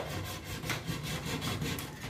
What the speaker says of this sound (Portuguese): Então você vai colocar o serrote lá naquela marcação e nessa linha. E vai cortar até o final.